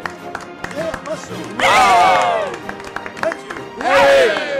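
Studio audience of a French variety show applauding and cheering as a guest is introduced, two loud bursts of crowd noise with shouts, separated by stretches of someone talking.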